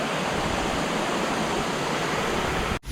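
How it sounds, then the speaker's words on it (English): A massive waterfall on Maui roars as a steady, dense broadband rush in pouring rain, loud and unbroken throughout, cutting out sharply near the end. "Massive ass waterfall."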